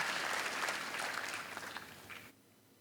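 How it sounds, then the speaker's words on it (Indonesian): Church congregation giving a lively round of applause, dense clapping that gradually thins and fades before cutting off near the end. "Berikan tepuk tangan yang meriah buat Tuhan."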